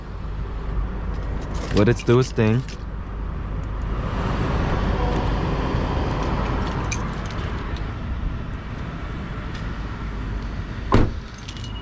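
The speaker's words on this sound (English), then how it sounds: "we'll let this car warm up still" A 2019 Honda Insight idles while warming up in a garage, giving a low, steady engine hum beneath nearby speech, with keys jangling and a few sharp clicks close by.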